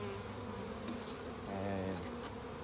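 Honey bees buzzing around the top cover of a hive during a spring installation, several close droning hums rising and falling together, alone without voices.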